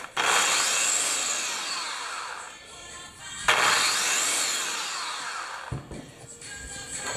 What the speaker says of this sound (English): Be very gentle with the sanding.